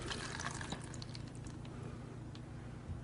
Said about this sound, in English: we'll just pour some water over it there